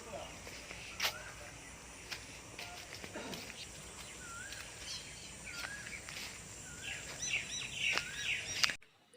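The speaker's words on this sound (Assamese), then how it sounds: "ক'ৰবাত কুলি চৰাই মাতি আছে" An Asian koel calls repeatedly from a distance, rising whistled notes over outdoor ambience and soft rustling.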